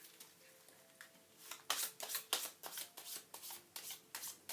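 A deck of cards is reshuffled by hand, soft at first, then a rhythmic series of close riffling bursts that grow louder, with no voices.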